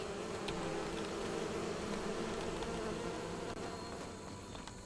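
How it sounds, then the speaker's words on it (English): Steady insect buzz of a bee in the fantasy video game Enderal, continuous and fairly loud over a dense ambient game background, with no talking. "I got a bee."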